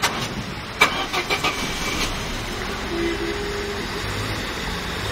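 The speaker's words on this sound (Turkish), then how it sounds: "Çalıştır, şöyle bir gaz ver." A car, fitted with LPG, cranks and starts with a few sharp catching bursts, then settles into a steady engine hum with faint revving, close and loud throughout.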